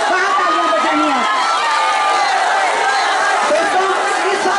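Crowd at a JNU student union election speech, a dense wash of cheering and shouting voices that is loud and continuous throughout.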